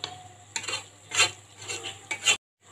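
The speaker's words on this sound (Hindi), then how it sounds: "चिकन को हमने ब्राउन नहीं करना, बस लाइट सा फ्राई करना है।" Chicken lightly frying in a pot while being stirred, with soft crackle under repeated scraping and clinking strokes in short bursts, fairly close, ending abruptly in silence.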